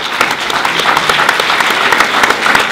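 A film festival audience claps steadily in a dense, continuous wash of applause, loud and close throughout with no voices standing out.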